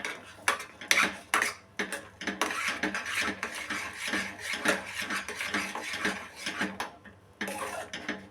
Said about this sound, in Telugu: ఫుడ్ కలర్ వేసుకున్న తర్వాత అంతా ఒకసారి మిక్స్ చేసుకోవాలి.